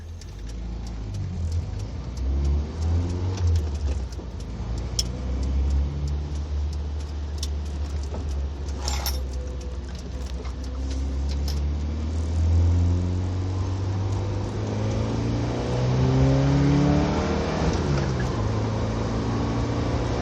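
A 1982 BMW accelerates on a freeway: steady engine drone from inside the car, with rising gear sweeps and a heavier pull toward the end, under road and wind noise.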